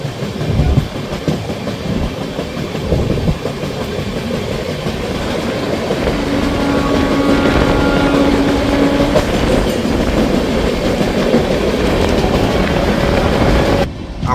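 A Purulia-Howrah Superfast Express train running steadily, with continuous loud rumble of carriages and rhythmic clickety-clack of wheels over rail joints, heard from on board for the whole stretch.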